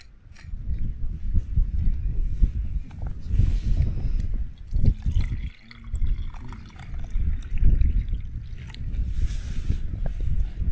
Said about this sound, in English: Now to measure out some water.